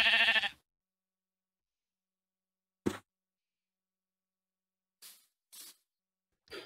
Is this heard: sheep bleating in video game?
yes